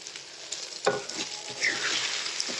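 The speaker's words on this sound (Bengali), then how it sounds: "এখন আমি ভালোভাবে সব কিছু ভেজে নিব।" Stick noodles tossed with their spice mix in a hot pan, a close sizzling hiss broken by a few sharp stirring scrapes and clatters over a short span.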